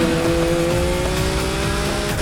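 A car races in the video game Need for Speed Heat, the engine roaring loud and steady with tire squeal layered over a constant drone.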